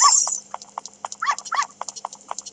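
A small dog barks repeatedly in Zelda: Ocarina of Time on the 3DS, its sharp yaps coming in a quick irregular series with a few louder bursts, clear and close over a faint steady background tone.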